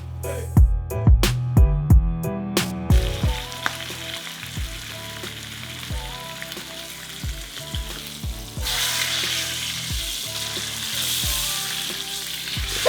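A giant tomahawk steak sears in a pan with steady sizzling, joined by a run of sharp knocks and thuds early on and more scattered bumps later, growing into a brighter, louder sizzle near the end.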